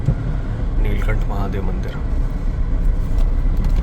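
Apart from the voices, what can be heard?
car being driven forward to park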